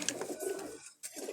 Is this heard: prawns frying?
no